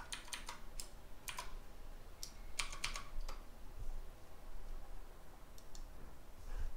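A password being typed on a computer keyboard gives quiet, close key clicks in short irregular bursts over a steady background hiss.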